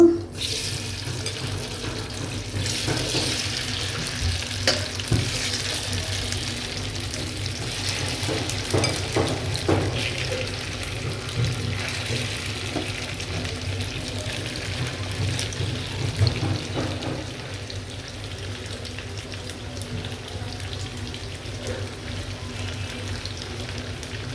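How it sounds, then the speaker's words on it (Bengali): Masala-coated chicken fries in butter in a pan, a continuous hissing sizzle over a low hum, with scattered clicks and stirring noises throughout. "আমি এখন এটা বাটার দিয়ে ভাজবো"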